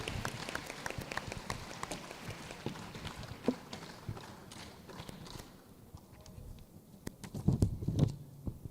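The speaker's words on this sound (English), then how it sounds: "round of applause." Modest audience applause at an Asian student science conference after a presentation, fairly quiet and distant, with scattered claps and a brief louder burst near the end.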